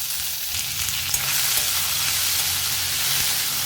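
Two tomatoes drop into a hot pan already frying urad dal, dried chillies, garlic and curry leaves for chutney, giving a loud, continuous close-up sizzle with no talking.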